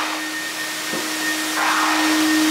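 A vacuum cleaner runs steadily in a flooded workshop after a heavy storm, a continuous close whine with a constant hum that grows a little louder and brighter toward the end.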